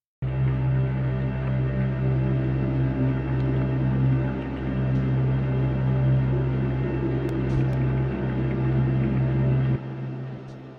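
Deep drone from the Pigments synth with delay, reverb and shimmer at default settings: a dense, steady low sustained tone with a shimmering upper wash, continuous and loud, dropping away abruptly near the end.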